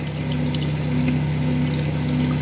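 Water pours steadily into a pot of meat curry, a continuous even stream with a low hum beneath it, close and fairly loud, with no talking.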